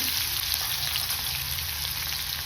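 Asafoetida and green chillies crackle in hot oil, a dense continuous sizzle close up and fairly loud, with no talking.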